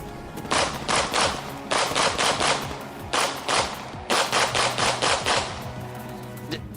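A spare gun fires in rapid automatic bursts, several clusters of sharp cracks separated by brief pauses, loud and close with no voices over them.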